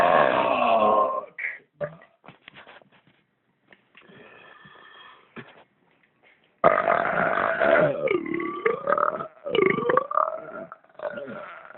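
Loud, drawn-out human belches, one long croaking burp at the start, a few short gulps and a quiet stretch, then another long, wavering belch close to the mic.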